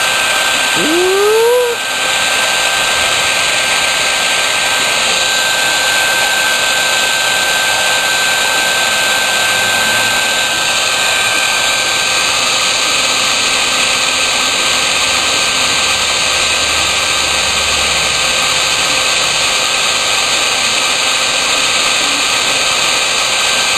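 A heat gun blows to shrink heat-shrink tubing, giving a loud, constant whooshing roar throughout, with a brief exclaiming voice near the start.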